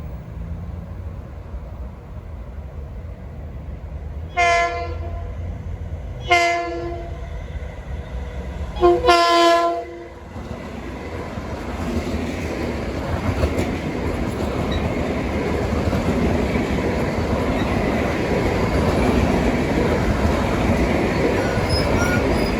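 Port Jefferson Branch train 1722 approaches Huntington Station at Oakwood Road, sounding three horn blasts, the last longest, before passing with a growing rumble of wheels and cars that carries on steadily to the end.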